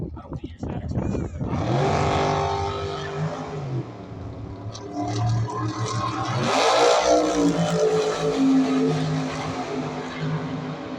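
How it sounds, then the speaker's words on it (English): 1984 Daytona drag racing car launching off the starting line at a dragway, a loud engine roar rising in pitch as it accelerates away, heard behind commentators talking. "hopefully it comes off the starting line this time"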